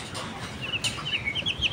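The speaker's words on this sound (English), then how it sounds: "Oh wow, look, the chicken." A colorful chicken gives soft, scattered clucks and chirps, close by, over a steady background hum with no talking.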